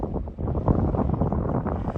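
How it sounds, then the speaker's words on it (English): Gusty wind on a mountain road buffets the microphone in a steady low rumble, loud and close, with no voices. "A little bit windy up here, to be honest"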